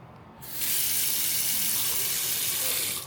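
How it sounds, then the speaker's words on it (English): Water from a hotel bathroom sink faucet turns on and runs in a steady, loud hissing stream for a few seconds, then cuts off. "The sink water pressure."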